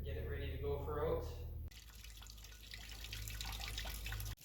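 Fluid draining from an International 93 combine during an oil change, a steady trickling water-like flow heard close up, with a voice murmuring over the first part before the pouring continues alone.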